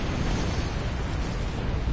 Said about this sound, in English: Did that explosion just push me upward?